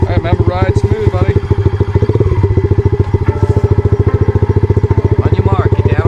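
A Yamaha TTR 110 dirt bike engine putters at close range, a loud, steady fast-chugging idle with slight revving, while someone talks over it.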